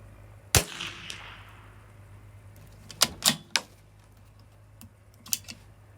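Rifle shots from a CZ457 firing Wolf Match Extra ammunition ring out as sharp, separate cracks at a slow pace, a few loud reports followed by fainter ones against a quiet range background.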